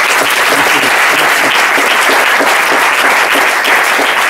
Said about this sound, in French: on peut applaudir le Seigneur pour ce que tu dis